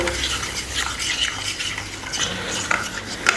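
A paste of salt, garlic, ginger and green chilli is stirred and mixed in a metal pan for white chicken karahi, giving a steady close scraping and clinking of the spoon with a couple of sharper knocks near the end.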